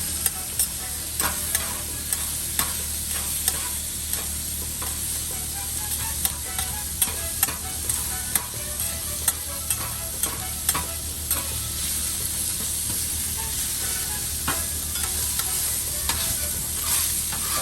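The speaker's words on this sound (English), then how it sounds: "you just start shredding it, and it'll shred really easy" Thinly sliced steak for a Philly cheesesteak sizzles loudly on a hot flat griddle, a bright continuous hiss with regular metallic scrapes and taps as a spatula shreds and turns the meat.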